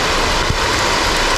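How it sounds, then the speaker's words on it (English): Heavy rain pours steadily beside a wild trout stream in New England, heard from under a tree. A dense, even wash of drops continues without a break and with no talking. "Getting seriously rained on right now."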